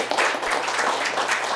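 An audience at a community media conference applauds, a brief burst of many hands clapping steadily and fairly close, with no talk over it.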